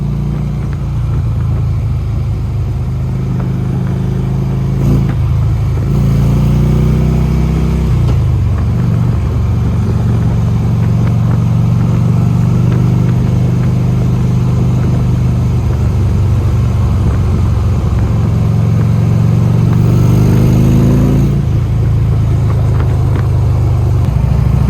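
A Harley-Davidson motorcycle set up for a short rider, not stock, rumbles steadily while being ridden, with loud continuous engine drone and a couple of rising revs as it shifts and accelerates.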